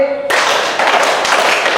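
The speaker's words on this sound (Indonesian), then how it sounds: "Kemudian tepuk tangan 3 kali." Broadband bursts of a group of students clapping hands fill the clip after a short pause, dense and overlapping rather than three clean, separate claps.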